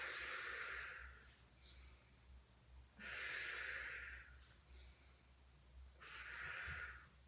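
Three long, breathy exhalations, each a few seconds apart, during a beginner Pilates mat exercise, close and fairly loud with a soft hiss, no talking.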